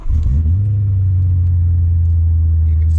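An adaptive race car's engine fires up and settles into a loud, steady low idle rumble that holds close and continuous, with no talking over it.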